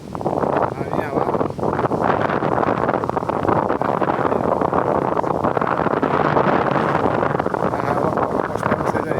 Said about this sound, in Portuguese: Muito vento, muito vento.